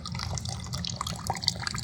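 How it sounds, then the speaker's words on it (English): A screwdriver swishing sediment-laden water inside a water heater tank, producing close, irregular sloshing and dripping splashes with small liquid plinks throughout. "If I take a screwdriver and I kind of swish this stuff around"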